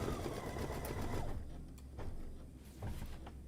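Embroidery machine stitching drawstring channel marking stitches on a bag, a fast mechanical whirring buzz that stops after about a second and a half, followed by quieter motor and handling noises.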